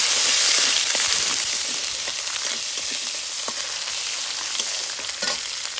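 Chopped tomatoes hit hot oil with whole spices for a vegetable dal, giving a loud, steady sizzle and crackle with scattered spatters and stirring scrapes throughout.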